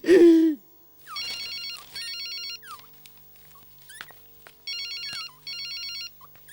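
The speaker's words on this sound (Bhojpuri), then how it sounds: "सर, संपत लाल के फोन।" A telephone rings in repeated electronic trilling bursts, two rings then a gap then two more, moderately loud; a short voice sound and scattered clicks and bumps fall between the rings.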